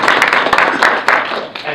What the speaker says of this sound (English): let's give them a quick round of applause for those